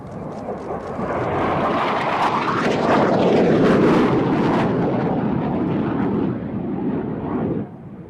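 A jet aircraft makes a fast low pass at an air display, around 600 knots at 200 feet, its roar swelling to a loud peak with a sweeping pitch shift, then fading as it recedes.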